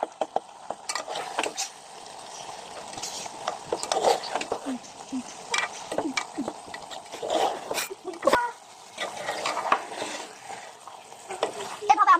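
Potatoes sautéed in a pan while cooking patol with egg, with soft sizzling and repeated scraping stirs throughout, steady and close, with a few louder clatters.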